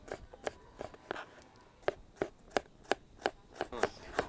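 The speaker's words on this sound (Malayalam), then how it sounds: "നമുക്ക് ചുവന്നുള്ളി ചെറുതാക്കി നൈസായിട്ട് അരിയാം" Shallots are finely chopped with a knife on a board in a village kitchen. The crisp taps come in a steady, fairly quick rhythm and sound close and quiet, with no voices.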